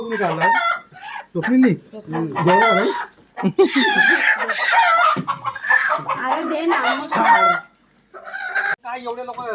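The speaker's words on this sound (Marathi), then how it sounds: "तर अशा प्रकारे आमच्या कोंबड्या आहेत" Loud, close chickens on a poultry farm clucking and squawking in busy bursts, with a rooster-like call mixed in, filling the scene continuously.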